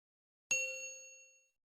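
A single bright notification bell ding, struck once and ringing out cleanly with a smooth decay over about a second, alone against silence.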